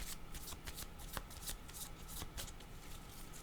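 A deck of cards being shuffled close up, heard as several quick riffling bursts of crisp flutter spread across the clip, fairly soft.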